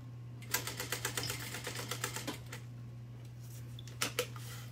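Sewing machine rattles in a fast burst of mechanical stitching clicks over a steady low hum, then stops; after a pause come a couple of sharper clicks as extra thread is trimmed, close and moderately loud.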